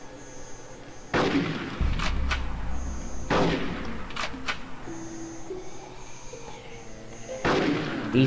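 Gunfire from the video game Conker's Bad Fur Day, a few heavy booming shots spaced several seconds apart over a steady background hum.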